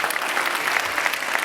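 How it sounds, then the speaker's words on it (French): An audience applauds Goren at the Ouistiti d'Or 2020 festival, a dense, steady burst of clapping filling the whole moment at close range. "faire un grand applaudissement pour Goren"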